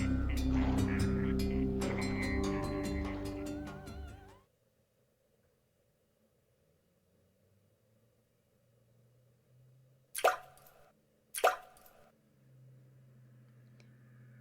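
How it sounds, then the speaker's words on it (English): Two separate water drops fall in a quiet night scene, each a short sharp plop about a second apart. They come after a stretch of music fades into near silence. "Drip, drip, the sound of falling drops."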